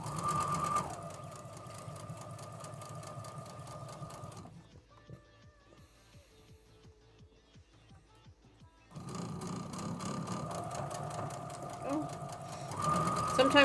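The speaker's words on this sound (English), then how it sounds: "I'm sewing all these triangles together, and I got to be real careful" A home sewing machine stitches fabric triangles together in two long steady whirring runs, with a quieter pause between them filled with faint clicks and handling.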